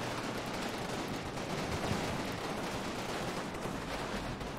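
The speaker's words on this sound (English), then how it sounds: "And look at that, just an absolute barrage of fire." A continuous barrage of gunfire in the WWII infantry game Combat Mission Fortress Italy, rapid overlapping rifle and machine-gun shots blending into one dense, steady crackle at moderate distance.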